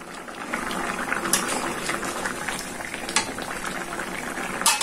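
Hilsa fish curry with potato, eggplant and pointed gourd bubbling steadily in a covered pot, a continuous close boiling hiss with small pops and occasional sharper clinks.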